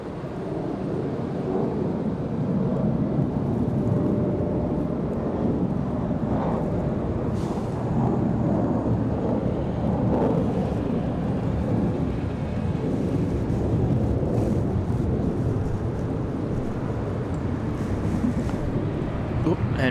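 A departing airliner roars at Charlotte Douglas airport, a broad rumbling drone under heavy wind buffeting the microphone, steady and fairly loud for the whole stretch.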